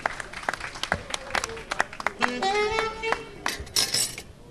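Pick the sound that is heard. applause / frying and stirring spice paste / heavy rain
applause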